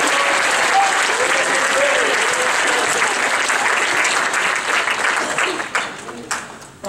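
A crowd gives a sustained round of applause at a youth event, loud and dense at first and then thinning into scattered claps, with voices and a few whoops mixed in underneath.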